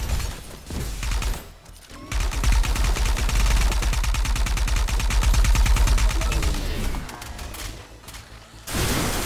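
Rapid bursts of rocket and gunfire from the video game ArcRunner, a loud, dense, continuous barrage with brief pauses, ending in a sharp gap before firing resumes.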